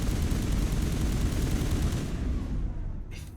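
Dense gunfire rattles nearby in Mass Effect Legendary Edition, a loud continuous barrage that tapers off over the final second.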